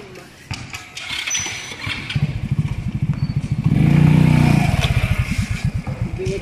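A motorcycle engine putters nearby with a rapid, uneven chug, swelling into a brief rev in the middle before settling back to idle.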